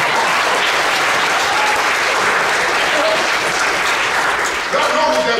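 Sustained audience applause fills a hall at a motivational talk, steady and dense throughout with a brief dip near the end before resuming.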